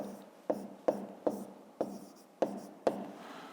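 Pen strokes on paper during a fifth-grade maths exercise, six short scratchy taps spaced about half a second apart, close and clear over a quiet background.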